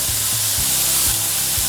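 Masala sizzling steadily in a hot pan as crushed garlic and ginger are sautéed for a Malabar prawn dumpling puttu, with a few soft scraping stirs cutting through the constant frying hiss.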